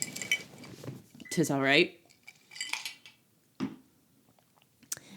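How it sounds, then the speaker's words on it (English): Light clinks of glass and cutlery ring out sporadically between people chatting nearby, a few sharp taps standing out in the quiet gaps. "Sorry about my drink. Clinky, clinky, clink."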